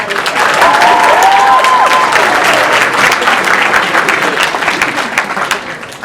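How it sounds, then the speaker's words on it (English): An audience at a pageant gives sustained, loud applause that fills the room, with light cheering in the background, then tapers off slightly toward the end. "Can we please give them all one more round of applause?"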